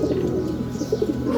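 Pigeons sitting on eggs in a loft give soft, rolling coos close by, a short continuous burst of low murmuring calls.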